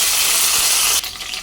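Curry leaves hit hot oil in a pan after paneer has been fried, giving a loud, bright crackling sizzle that holds steady for about a second and then drops abruptly to a softer sputter.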